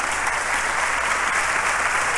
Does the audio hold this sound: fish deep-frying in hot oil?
no